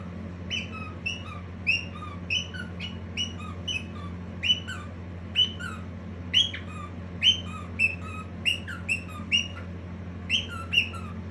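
A pet cockatiel named Piku calls out its own name in a run of bright, chirpy whistled bursts that repeat at a steady pace over a low, constant background hum.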